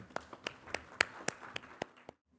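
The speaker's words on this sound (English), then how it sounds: "Can we have a huge round of applause?" A round of applause at a cooperative development summit in Bengaluru: about a dozen sharp, distinct hand claps at a steady, even beat, close and fairly loud, stopping abruptly into silence.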